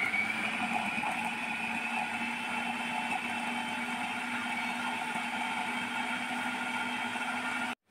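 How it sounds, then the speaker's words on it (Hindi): A kitchen blender whirs steadily through a chicken kebab mixture with spices, a loud constant motor drone with a high whine, running alone for several seconds before stopping abruptly. "इन सबको हम अच्छे से ब्लेंड कर लेंगे"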